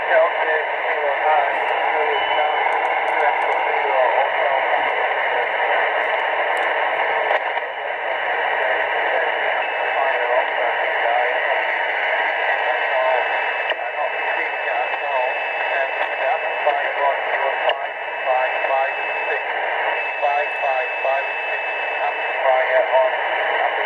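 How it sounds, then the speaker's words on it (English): Low-power amateur radio voice transmission from an FT-817 sent without an amplifier, heard as a steady, narrow-band voice signal with constant hiss throughout. "this is the signal now without the amplifier"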